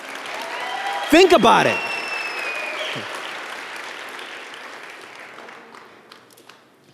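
A church congregation gives a brief, restrained round of clapping after a scripture reading, a short burst of hand claps under a preacher's amplified voice, which continues talking afterward in a reverberant hall.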